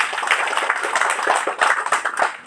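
Audience clapping hands at a foundation supervisor's speech in Indonesia, a lively burst of many hands with uneven rhythm, fairly close and steady for a couple of seconds with no talking over it.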